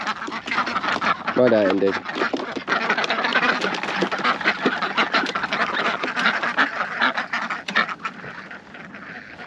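Farm ducks quack busily and continuously, close and loud, shut in after a day indoors, with someone talking briefly over the flock.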